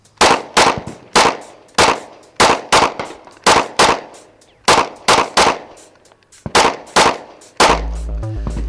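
Smith and Wesson M&P 9mm pistol fired at a range, about fourteen sharp, loud reports in uneven bursts of one or two shots, each with a short ringing decay, ending in a low rumbling thump.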